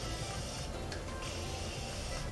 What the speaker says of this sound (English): I'm going to be using my Morphe Continuous Setting Spray Mist.